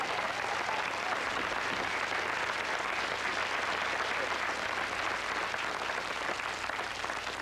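An audience at a live concert applauds. The clapping is dense and steady and keeps the same loudness for the whole stretch.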